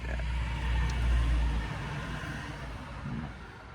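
Low engine rumble of vehicles rolling in, swelling around the middle and easing off, with steady outdoor background noise.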